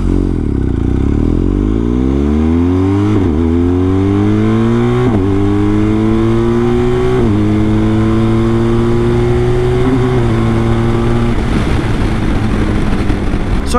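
A BMW R1250GS motorcycle fitted with a BT-Moto stage 1 exhaust accelerates hard through several gears, each upshift marked by a brief break before the engine note climbs again, loud and close, ending in a higher-revving roar.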